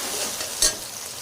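Green chili paste fries in a pan with a steady close hiss, and a brief clink or stir sounds partway through.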